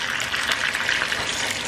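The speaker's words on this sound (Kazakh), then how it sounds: "Енді су құямыз." Water is poured steadily into a pot of da pan ji chicken, a continuous bright splashing gush that stays even and close, with no talk.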